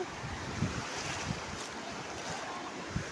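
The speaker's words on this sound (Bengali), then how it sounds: "এই ঢেউ আসছে ঢেউ" Ocean waves break and wash up on the sea beach at Digha in Purba Medinipur, a continuous near surf roar with gusty wind noise on the microphone.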